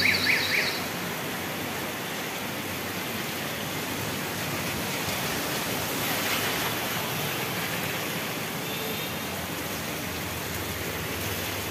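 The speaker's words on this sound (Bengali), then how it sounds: "ভালোই বৃষ্টি হচ্ছে" A downpour of heavy rain gives a constant, enveloping roar, with a brief louder knock at the very start. After that it stays uniform and nearby, with no talk.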